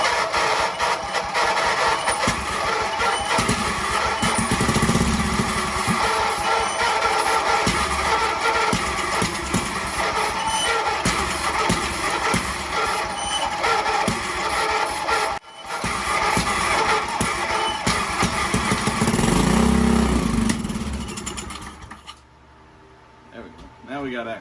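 A Jeep engine cranks and catches, then runs roughly with a steady loud rumble and revving, briefly dropping out before surging again and fading near the end, with someone talking over it.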